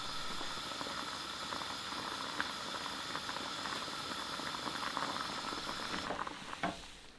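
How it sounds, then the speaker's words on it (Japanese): A pot of water holding new potatoes, garlic and bay leaf comes to a rolling boil, giving a faint, steady bubbling hiss with occasional small pops. "一度沸いたら1分弱ぐらいきっちりと沸かしきって表面だけきっちり火を入れていきます"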